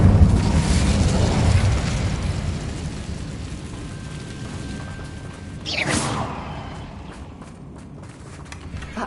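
A fire spell bursts out in a Hogwarts Legacy battle: a loud rushing, crackling roar that swells, thins, then flares again in a sharp whoosh, with steady rumble underneath.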